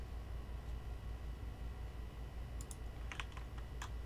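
A short burst of keystrokes on a computer keyboard, typing a command into a Windows run dialog, clicks in over a steady low hum near the end.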